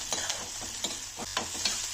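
Onion and garlic frying in a pan alongside fish, a continuous hiss of sizzling oil broken by several quick, rhythmic scraping stirs close by.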